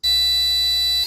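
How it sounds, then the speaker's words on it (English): A Keyestudio Eco Smart House kit buzzer sounds one sustained, loud electronic tone for about a second as its low water level warning, close and alone. "if it doesn't see enough water, it has a slow beep"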